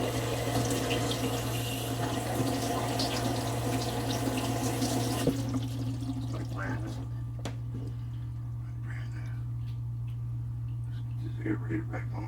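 A cheap apartment faucet is turned on slowly to purge air, giving a steady rush of running water with a constant low hum that thins after a few seconds into quieter trickling and small clicks, with people talking over it.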